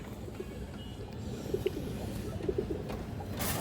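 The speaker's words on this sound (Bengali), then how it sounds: "এখন এই খাঁচা আনছে দর্শক এই কারণে ডাকাডাকি করেন" A pair of Musaldam pigeons gives soft, low cooing calls in a few short bursts, close by over a steady ambient background.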